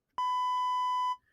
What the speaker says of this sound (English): if you talk really really fast, it automatically starts beeping you